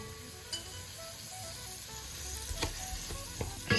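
Rinsed lentils tumble into a pan of spiced oil for Ottolenghi's curried lentil soup, giving a steady low sizzle broken by a few sharp clinks and stirring scrapes near the end.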